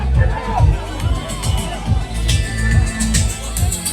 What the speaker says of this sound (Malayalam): തങ്കമണിയുടെ അഭിമാനമായ പൊന്നപ്പൻ ചേട്ടൻ ഒരു നല്ല കയ്യടി കൊടുത്തേ